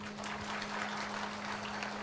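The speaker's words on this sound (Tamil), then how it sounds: "நீங்கள் இந்த பேச்சாளர்களுக்கெல்லாம் கொஞ்சம் நல்லாவே கைத்தட்டலாம்." Audience in a Tamil pattimandram debate hall applauds the speakers, a steady dense wash of clapping throughout with a constant low electrical hum underneath.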